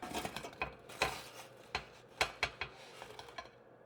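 Imitation crab bites being taken out of an air fryer after cooking at 380 degrees, a run of light, close metallic clicks and taps of basket and utensils, irregular and fairly quiet.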